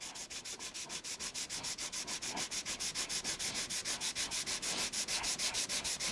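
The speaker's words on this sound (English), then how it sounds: "So I'm going to use my radius beam and just gently sand it." Sandpaper on a radius beam rubs a guitar fretboard flush in steady back-and-forth strokes, roughly five per second. The close, even, scratchy rasps continue through the whole clip with no talking.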